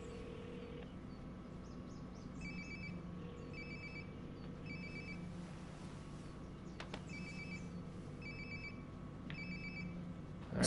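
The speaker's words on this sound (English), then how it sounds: "Sounds like my phone is definitely nearby." Phone ringing in Life is Strange: Before the Storm, a repeated electronic ring in short bursts about every second and a half, heard over a steady low game ambience with no talk.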